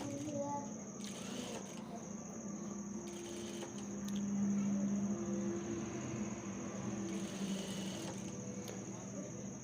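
A sewing machine stitches the collar of a men's kurta, a faint whirring hum with a steady tone running under a soft background, while someone speaks over it.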